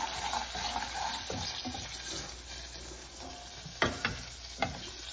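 Spices and chilli powder being stirred in a hot pan for a Telugu-style okra (bendakaya) curry, with a steady low sizzle under repeated scraping strokes and a few sharper knocks of the spoon near the end; no talking.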